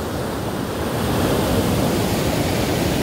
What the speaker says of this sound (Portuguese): Depois de 2 anos, a barragem do Murupé sangrou.